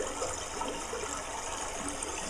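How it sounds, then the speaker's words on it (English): Steady rushing water ambience of a waterfall, played as a camping backdrop; a constant, fairly quiet broadband hiss with no pauses and no voices. "Waterfall might be pretty cool."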